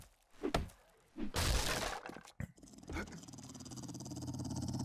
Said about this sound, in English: I hear dogs outside.